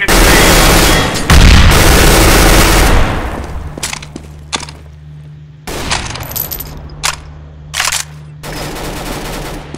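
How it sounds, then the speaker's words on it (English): A grenade explosion in a shooter video game lands as a loud, heavy blast early on among sustained gunfire, then fades into a quieter stretch with a steady hum, broken by a few sharp, scattered shots. "Throwing a grenade!"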